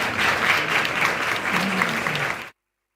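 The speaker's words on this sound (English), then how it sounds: "please give them a big round of applause" An audience at an Independence Day installation ceremony applauds the newly inducted team, a full, continuous patter of clapping with a faint voice underneath, cut off abruptly after about two and a half seconds.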